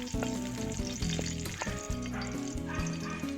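Crushed unpeeled garlic fries in a pan, producing a loud, close, continuous sizzle with sharp crackling spits and occasional stirring clatter, no speech.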